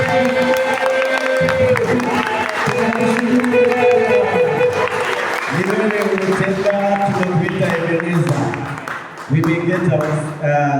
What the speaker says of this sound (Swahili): tumpatie Bwana makofi na shangwe